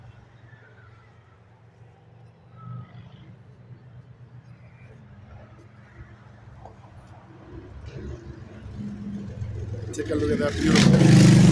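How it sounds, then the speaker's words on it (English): Motorcycles pass on a nearby road beside a tropical garden in central New Jersey, a faint engine rumble that swells loud toward the end while someone talks. "You got some motorcycles that just passed by"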